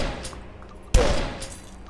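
A single loud gunshot from an assault rifle or shotgun in the video game DUSK, a sharp close blast with a short rumbling tail after a few quieter game sounds.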